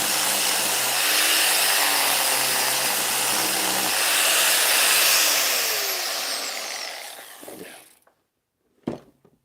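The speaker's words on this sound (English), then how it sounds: "I call it a sander, it's actually an angle grinder" An angle grinder used as a sander on a wooden bird box, a loud sustained whine that rises, then winds down and stops, followed by a short knock.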